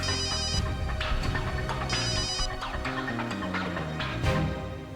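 A telephone rings repeatedly in bursts in a TV crime drama scene, layered over busy music with sharp hits and a low steady bed.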